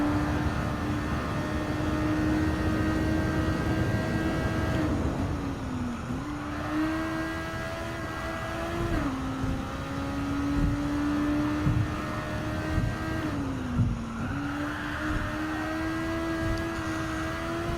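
Engine of the Suzuki Vision race car in Gran Turismo 7 whines at high revs, holding a steady pitch in fifth gear with brief dips and climbs as it shifts and lifts, loud and close throughout.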